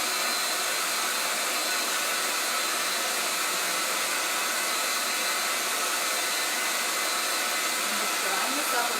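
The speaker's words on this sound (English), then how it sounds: "I'm just going to dry this up a little bit with my hair dryer." A hair dryer blows steadily at close range, a continuous broadband whoosh that stays even from start to finish with no talking.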